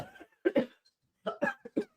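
A person gives a short, tickly cough as a few quick, dry hacks in two close groups separated by a brief pause, heard close up and alone.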